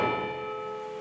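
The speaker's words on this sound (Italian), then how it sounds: "la campana dovrebbe battere la mezz'ora" A single stroke of a civic clock tower bell rings out and hangs in a long, humming decay of steady overtones, with no other sound around it.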